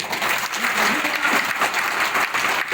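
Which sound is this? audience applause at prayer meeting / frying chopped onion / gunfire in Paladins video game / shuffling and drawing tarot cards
audience applause at prayer meeting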